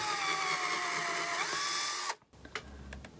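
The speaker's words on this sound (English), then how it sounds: "So I am just going to drill a hole right fast." A power drill whines at high speed as it bores a hole in a wooden 2x4 block, its pitch dropping slightly under load before it cuts off abruptly, followed by a few light clicks and handling sounds.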